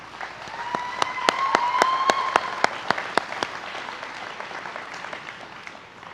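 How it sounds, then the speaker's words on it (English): Applause at a university commencement ceremony: a spread of clapping hands with several sharp, distinct claps standing out near the front, swelling early and then thinning toward the end, moderately loud in a large hall. "Students, let's give a round of applause to our family and our friends for all of their support."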